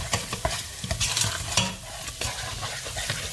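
A curry spice mix frying in oil is stirred repeatedly, with frequent scraping and knocking of the utensil against the pan over a continuous close sizzle.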